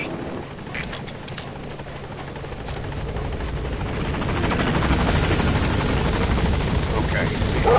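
A helicopter in Metal Gear Solid V: The Phantom Pain arrives at a landing zone, its steady rotor drone swelling louder and nearer over the clip, with a radio voice talking over it.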